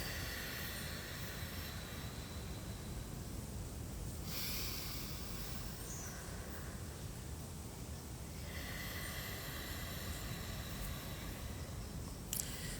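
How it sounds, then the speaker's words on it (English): Slow, deep breathing through the nose during a breathing exercise, with long even inhales and exhales in about four-count phases, close and breathy with steady background hiss and no talking. "So you inhale through the nose for 4,"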